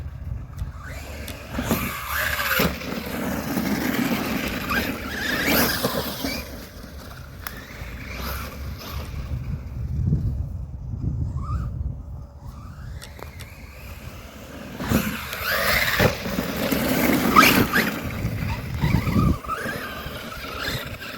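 An Arrma Vorteks RC car on Outcast wheels drives outdoors, its motor whining and its wheels rolling with a steady roar that rises and falls over about twenty seconds, with no talking.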